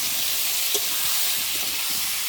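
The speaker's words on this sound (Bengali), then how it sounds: "এবার মশলার সঙ্গে দিয়ে ভালো করে কষিয়ে নেবো।" Boiled small potatoes are sautéed with spices in a pan for alur dom, giving a constant close sizzle with soft stirring scrapes of a spatula.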